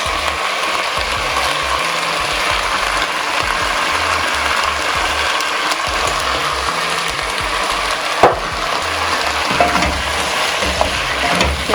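Chicken strips stir-fry in a hot pan just after dark soy sauce goes in, for chicken in oyster sauce: a loud, unbroken sizzle with occasional scraping clicks from the spatula.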